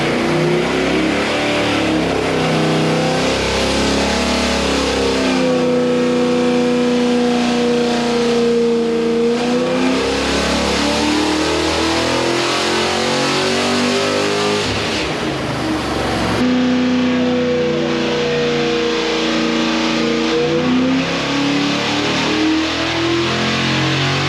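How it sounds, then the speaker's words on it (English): An engine fitted with an Edelbrock VRS-4150 carburettor revs hard on a dyno, a loud sustained roar that climbs and falls through several pulls with no talking. "I've dynoed these carburetors, and I'll put a video of that in there so that you can see it."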